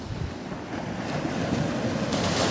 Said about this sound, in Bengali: আর এই দেখো সমুদ্র, ঢেউ আসছে,